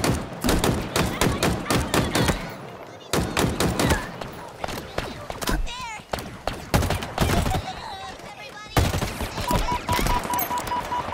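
Rapid bursts of gunfire in the video game Halo Infinite, played through the Outpost Tremonius campaign mission, crackle loudly in dense clusters with heavy thuds and brief gaps, while someone talks over the shooting at times.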